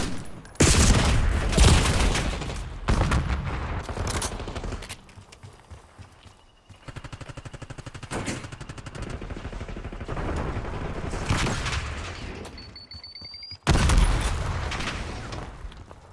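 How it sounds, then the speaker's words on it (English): Bursts of automatic gunfire in the video game Black Ops 6 during a team deathmatch, loud dense volleys separated by brief lulls, with a short electronic tone near the end before another heavy burst. "Hostile shooting."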